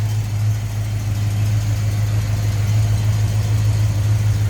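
A rebuilt engine in a 1971 Buick Skylark idles steadily, a smooth, even low rumble with no speech, close and constant throughout.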